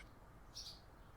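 A bird chirps faintly outdoors, drifting in through an open window, with a single short bright call standing out over a low room hum.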